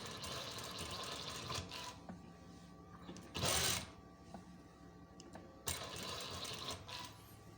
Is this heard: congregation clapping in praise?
no